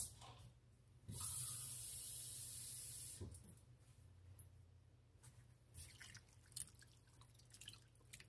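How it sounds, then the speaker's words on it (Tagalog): Water pours into a pot of milkfish paksiw already dressed with a little vinegar, a steady splashing stream lasting about two seconds, followed by quieter trickles and drips. "lagyan natin siya ng tubig."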